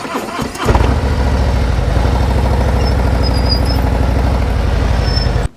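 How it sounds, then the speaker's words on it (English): A motorcycle engine at a slow-speed riding practice session sputters to life and settles into a loud, steady, throbbing idle, close by, with a faint squeak in the background. "so just listen to your engines"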